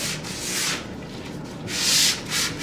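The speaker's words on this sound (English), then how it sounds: "you don't want to sand through, but you want to take all the shine off" Sandpaper scrubs the finish of a wooden picture frame in two close, rasping back-and-forth bursts separated by a short pause.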